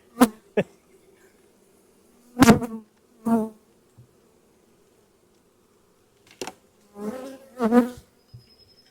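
Bees from a swarm about 20 feet across buzz in short separate bursts that swell and fade as they fly close past, with quiet pauses between them.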